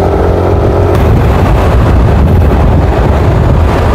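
Loud, roaring wind buffets the microphone throughout during a cycling race in La Union, a dense continuous rumble with a faint engine-like drone underneath.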